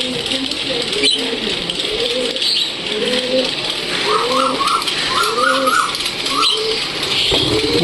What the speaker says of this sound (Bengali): খুব জোরে জোরে লাভবার্ড ডাকে